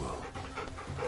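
A dog panting steadily in Final Fantasy XVI while being petted in a short cutscene, a soft rhythmic breathy sound that stays close and even, with no talk over it.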